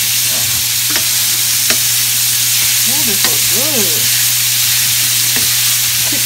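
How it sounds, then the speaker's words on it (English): Food frying in a pan being stirred, a constant loud sizzle with scattered scraping strokes of the utensil, while a person makes a couple of brief remarks close by. "I'm gonna start stir it up now while I'm doing it."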